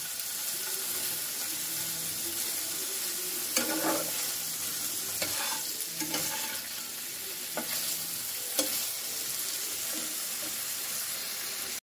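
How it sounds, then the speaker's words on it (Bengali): Food fries in a pan at home, sizzling softly and steadily, with occasional scraping stirs and clinks scattered across the clip. The sound is moderately close, with faint running water in the background and no talking. "ভেজে নিতে হবে জিনিসটা"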